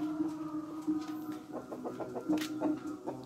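An ornamental long-tailed chicken kept in a one-metre box gives a run of soft, close clucks, the short calls repeating quickly through the middle and end.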